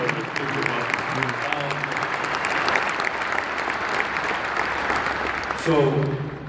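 Sustained audience applause at a faith event honoring Ben Roethlisberger, steady and dense throughout, with a voice rising over the clapping near the end.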